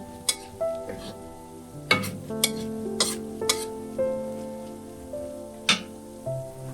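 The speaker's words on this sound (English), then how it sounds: "Let the shallots continue cooking slowly." Shallots fry slowly in oil over low heat, giving a soft continuous sizzle broken by several sharp stirring clinks and scrapes of a utensil against the pan.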